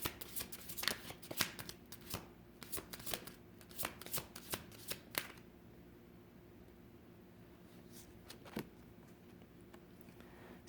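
Tarot cards being shuffled, a run of crisp riffling flicks and patters in quick bursts, then a quieter stretch with a few isolated flutters, close and soft with no talk.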